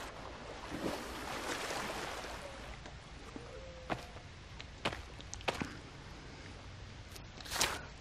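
Flowing water and a waterfall in The Forest wash softly and steadily at the start, then thin out, broken by a few brief splashes and clicks.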